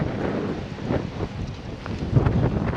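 Strong, cold storm wind on the Taman coast buffets the microphone outdoors, a loud, continuous gusty rumble with rising and falling surges and no talk.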